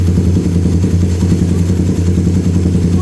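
A Suzuki Satria F150 motorcycle idles steadily after an idle-speed adjustment, a loud close continuous engine rumble with no talking.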